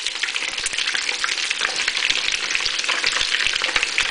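Slices of Spanish torrijas, bread French toast, fry in a hot pan with a steady, close, loud sizzle and crackle that continues without pause and with no voices.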